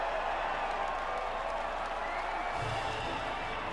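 Crowd applause and cheering at a race podium celebration in the F1 2019 game, a steady, dense wash of distant clapping and crowd noise throughout, faint and continuous.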